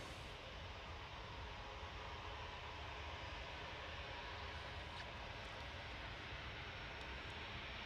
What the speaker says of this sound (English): Ryanair's lined up now. 737-800 off to Mahon.